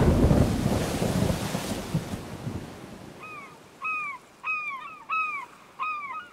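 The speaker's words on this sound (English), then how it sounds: "there's a storm at sea" Thunder from a storm at sea rumbles loud and broad at first, then fades, and crows caw several times in a steady, evenly spaced series.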